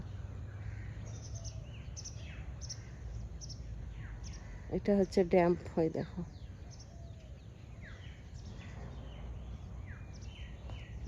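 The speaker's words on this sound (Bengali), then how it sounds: "পাখি উড়ছে, কি ভালো লাগছে।" Birds chirp and call outdoors at sunrise on a morning walk, faint scattered tweets throughout, while a person speaks briefly in the middle.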